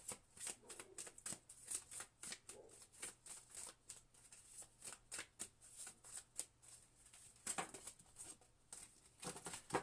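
A deck of angel oracle cards is shuffled with quick, crisp riffles and slaps at an irregular pace, close and quiet, continuing throughout with no voice.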